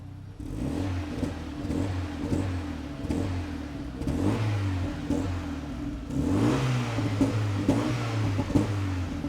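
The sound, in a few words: sports car engine revving, exhaust popping in sport mode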